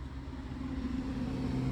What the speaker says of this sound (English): there was a car going up the road in case you couldn't hear me